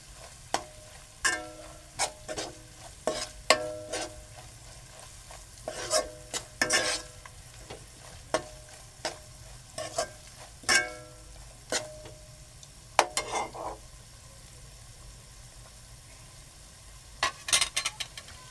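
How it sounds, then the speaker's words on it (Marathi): Onions frying in a pan for a raw papaya vegetable dish are stirred with a spoon, giving soft irregular scrapes and light clinks over a low, steady sizzle. "आता हे मी ढवळून घेणार आहे."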